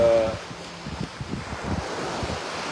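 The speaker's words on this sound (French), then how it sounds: "le bruit des vagues" Ocean waves wash steadily against a seaside shore. The surf is a low, continuous roar with wind buffeting the microphone, and no one speaks.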